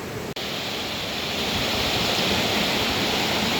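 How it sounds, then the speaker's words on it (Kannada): Fast-flowing stream water rushes in a loud, continuous roar close by on a nature trek, with a brief dropout near the start before the flow swells and holds steady. "ನೀರು ಸ್ಪೀಡ್ ನೋಡ್ರಿ"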